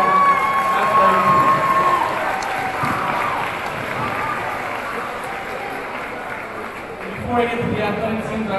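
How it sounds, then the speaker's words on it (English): A school pep rally crowd applauding and cheering in a gym, a loud continuous roar of clapping and shouts that rises again near the end, with an amplified voice heard over it. "I want to give a round of applause to all of our sports teams"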